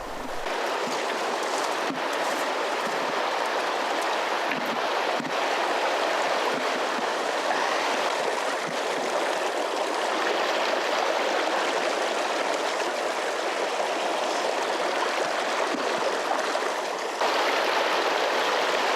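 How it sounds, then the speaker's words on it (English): The Yuba River in the Sierra foothills flows past during a river crossing with a steady, close, full rushing and burbling that stays unbroken and fairly loud throughout, with no one speaking. "it is a privilege to be able to cross this river"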